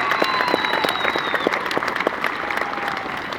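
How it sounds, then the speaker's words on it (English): Sustained applause from a rally crowd honoring service members, many hands clapping in a steady, fairly loud wash with a faint tone running beneath. "Let's give them a round of applause."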